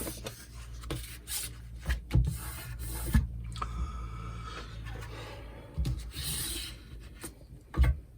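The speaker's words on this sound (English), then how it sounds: "Now we need to burnish." A burnishing tool rubs along scored cardstock while a Stampin' Up gift is being made, giving faint, close rasping strokes in short, irregular bursts with quiet pauses between them.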